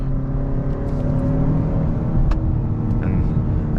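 Hyundai Sonata N Line with an 8-speed wet dual-clutch transmission and tuned exhaust, heard from inside the cabin: a steady, loud engine drone holding in gear, with a few faint clicks over the rumble.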